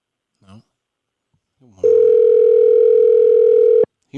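A phone call goes unanswered, with a single long, steady electronic ringback tone sounding loud and close for about two seconds after brief background speech.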